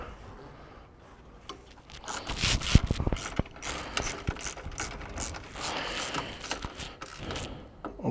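A ratchet tightens a radiator mounting bolt on a Foxbody Mustang, giving rapid clicking pawl bursts mixed with metallic clinks and scrapes from the work, close up and moderately loud.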